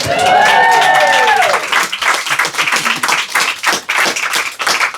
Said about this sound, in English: That deserves a clap, guys.